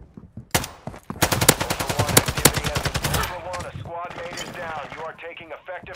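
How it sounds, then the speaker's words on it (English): Automatic gunfire in the Call of Duty DMZ video game, on Ashika Island: a dense, rapid burst of shots runs for about three seconds, then gives way to a game voice speaking. "You are taking effective fire."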